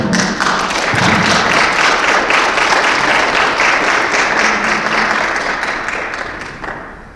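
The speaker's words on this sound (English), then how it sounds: "Let's give them a round of applause." Sustained audience applause for the panelists at a Black History Month panel on disparities in education, loud and dense throughout, then tapering off toward the end.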